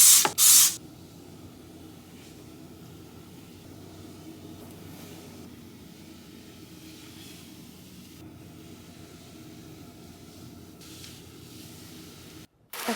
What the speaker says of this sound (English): I'm going to use it to spray down all of the sides and my little soap dish tray